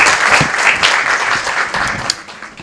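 Audience at a hospital event applauding as a deputy governor is invited to speak, a dense burst of many hands clapping, loud and close, tapering slightly toward the end.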